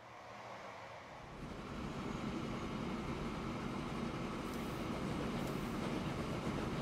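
Train in the Transport Fever video game, a steady rolling rumble of wheels and carriages that swells after the first second and holds loud and continuous, with no talking.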